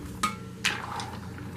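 Dry boxed macaroni noodles poured into a pot of boiling water: two sharp rattling clatters close together, followed by a softer lingering rush, fairly quiet, with no talking.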